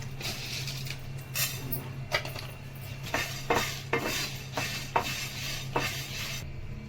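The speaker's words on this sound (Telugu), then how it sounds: "దీంట్లోనే 1 స్పూన్ ధనియాలు వేసుకుందాం." Coriander seeds and dried red chillies dry roasting in a pan with a steady low hiss, broken by light scraping and clinking as the spatula stirs them, with no voices.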